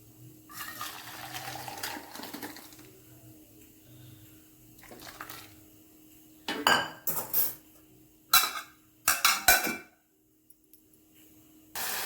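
Metal utensils clink and scrape against a pot of rasam in several sharp bursts as it is transferred to another vessel, with faint background noise between the clatters.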